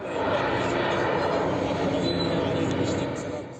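A firefighting aircraft flies low over a wildfire while spraying red extinguishing foam, its engines a loud, steady, close drone that fills the whole stretch and fades slightly at the end.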